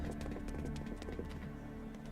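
Horse hooves clip-clopping at a steady, quick rhythm in the video game Fate/Grand Order, the rented stable horse heading for the village outskirts of Salem, set against a continuous low background with no one talking.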